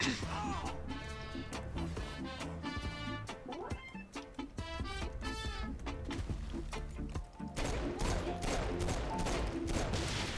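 Unlimited-ammo weapon fire in Saints Row IV co-op, rapid repeated shots mixed with busy game sounds and bleating-like effects, close and continuous without any voices.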